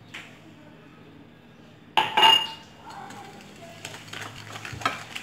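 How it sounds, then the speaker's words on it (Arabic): Eggs and sugar being mixed in a bowl for an apple tart, a quiet lull before a burst of clinking utensil-on-bowl strokes and scraping that carry on in uneven, close-up bursts with no one speaking. "نخلط هاد المكونات مزيان"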